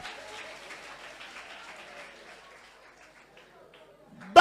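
A crowd claps and cheers, the applause building briefly and then fading away over a few seconds, mixed with a speaking voice.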